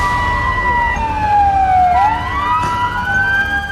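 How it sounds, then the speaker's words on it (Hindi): Emergency vehicle sirens wail loudly and up close, one tone sweeping down then climbing back up while another siren overlaps, over a low traffic rumble. "सायरन बज रहे हैं"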